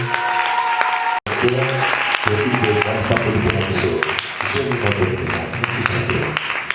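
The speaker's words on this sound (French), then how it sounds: "Merci beaucoup pour l'applaudissement" Church congregation applauding at a prophetic service: a thick burst of clapping that cuts off briefly, then resumes, with talk and music running underneath.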